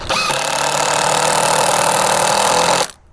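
Power screwdriver driving the last screws into a pressure-treated wooden planter box, a loud steady whirring motor held for nearly three seconds before stopping abruptly.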